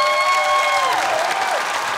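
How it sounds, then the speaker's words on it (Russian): Audience at a PVP Arena fight show applauding with a whoop or whistle-like cry rising above the steady clapping, which fills the room evenly from start to finish. "Аплодисменты."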